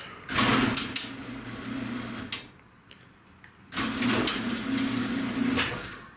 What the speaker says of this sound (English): I gotta open the garage door.